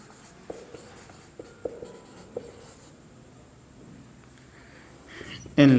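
Marker or chalk writing on a board during an English grammar lesson, a few short scratchy strokes in bursts, faint and close, followed by a sudden loud noise at the end.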